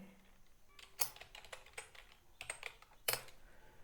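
Keys clatter on a computer keyboard as text goes into an Excel cell, in quiet, irregular clicks with a couple of louder sharp strikes.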